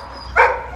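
A dog at an animal pound lets out a single short bark, loud and close, over a steady low room hum.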